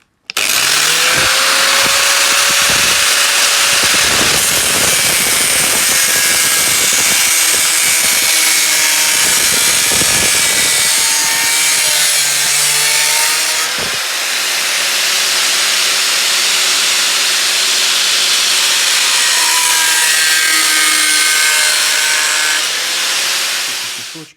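Saw cutting through a plastic greenhouse pipe outdoors, a loud, steady rasping drone with shifting pitch that runs almost without a break, dipping briefly midway and stopping near the end.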